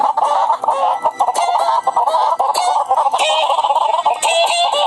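Chickens in the video game Mini World, loud honking clucks repeating densely throughout, with no talk.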